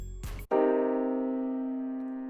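After a brief soft bump, a single rich seventh chord is struck on piano and left ringing, slowly fading as it sustains alone.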